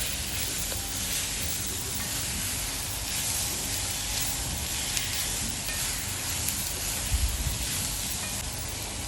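Soya chunks sautéing in masala over a medium flame give a steady, even sizzle and frying hiss with faint stirring scrapes, running unbroken and close with no voices.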